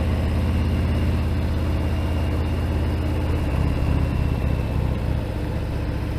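A Harley-Davidson Fat Bob 114 motorcycle rumbles steadily while riding, its deep low engine drone and wind noise continuous and loud throughout, with no talking.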